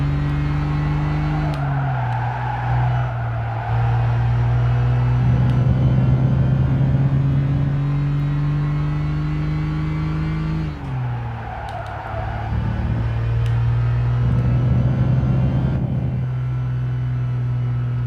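Steady engine drone from a race car in Gran Turismo 5, holding a sustained pitch that dips twice as the car shifts or lifts, with tyre scrub and road rumble underneath and no talking.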